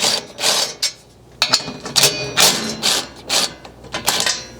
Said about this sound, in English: grab your 10mm again and remove the 2 screws here in the center holding this metal mounting plate in